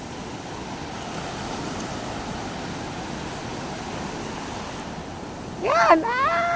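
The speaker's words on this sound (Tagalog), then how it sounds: "Oh, may alon!" Sea waves wash in on a shore with a continuous broad rushing hiss and gusty wind noise, swelling louder near the end as excited voices call out over the surf.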